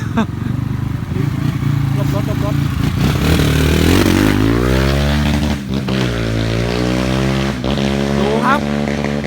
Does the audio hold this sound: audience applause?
no